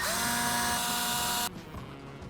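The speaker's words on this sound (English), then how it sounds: "So let's remove all these screws." A power tool backs screws out of an aftermarket part in a Toyota Tundra, a close, steady whirring buzz for about a second and a half before it cuts off, leaving faint handling noises.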